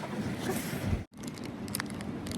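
Icy nine-degree wind buffets the microphone outdoors in rough, roaring gusts, cutting out abruptly for a moment before the blustery rush resumes, loud and close.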